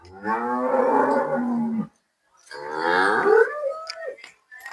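Two long, loud moos close by from freshly calved dairy cows, the second rising in pitch and trailing off, separated by a short pause.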